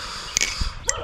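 A neighbor's dog barks outdoors, giving a few short sharp yaps at a moderate distance over a quiet background, with no talking.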